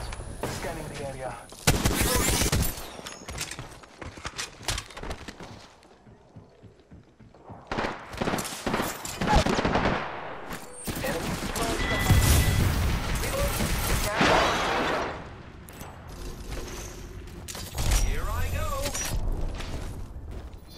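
Rapid gunfire crackles through a multiplayer shooter match, with dense bursts of shots and heavy booms rising and falling at close range. Game voice lines sound alongside the shooting.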